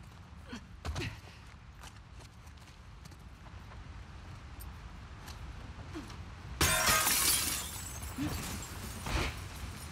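Glass shatters loudly partway through in The Last of Us Part 2, a sudden bright crash with a brief tinkling tail against a quiet background of soft footsteps and breathing.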